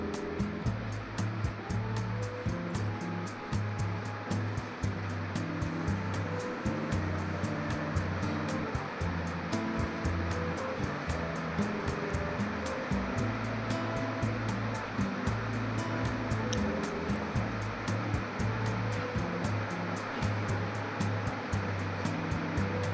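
A mixer grinder whirs continuously, grinding cut tomatoes into a paste for a chicken gravy. The motor roar is close and steady with a gritty churning texture and runs throughout with no pauses.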